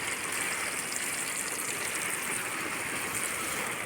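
Water gushes from a tap for field irrigation on a hot, sunny day, making a steady, close rushing hiss that stays even for the whole stretch with no voices.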